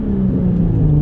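Exhaust of a 2016 Hyundai Genesis Coupe R-Spec rumbling close and loud, a low steady drone holding at a fairly constant pitch with a slight rise in revs, no voices.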